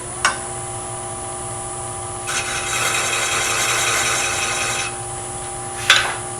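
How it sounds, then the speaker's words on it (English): Skew chisel flattening the tops of threads cut in wood on a lathe, a steady scraping rasp of about two and a half seconds over the lathe's constant hum, with sharp taps before and after. "you can actually come in here with your skew chisel and just flatten the top of these threads."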